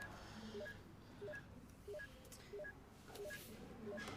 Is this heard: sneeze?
no